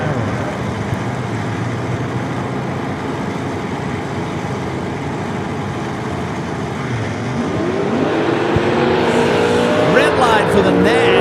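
A 1969 Chevy Camaro makes a drag racing run at Mo-Kan Dragway, with loud, steady engine roar filling the track and a rising rev and tire screech toward the end, under an announcer's voice.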